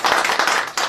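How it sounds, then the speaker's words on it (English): A short burst of audience applause for a program organizer at an architecture lecture, dense clapping filling the room at close range, dipping briefly before swelling again. "So Cho needs your applause."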